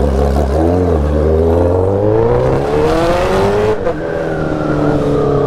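A motorcycle filters between lanes of car traffic, its engine close and loud, rising steadily in pitch as it accelerates and then dipping briefly near the end.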